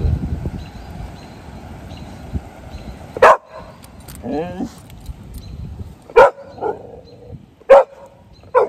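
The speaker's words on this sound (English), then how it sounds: "Who you barking at?" A dog barks in several sharp, loud bursts spaced a few seconds apart, with a whimpering whine between them and faint background noise.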